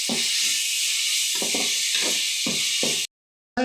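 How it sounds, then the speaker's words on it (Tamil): Tomatoes with rock salt sizzle in a hot pan with a steady hiss, while a spoon stirs them in several soft knocking thumps, before a brief silence. "தக்காளி நல்லா மசிறதுக்காக கொஞ்சம் கல்லுப்பையும் சேர்த்துக்கலாம். அப்படியே சேர்த்து நல்லா வதக்கிக்கலாம்."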